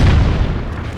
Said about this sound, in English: So yeah, I am shelling the retreating guys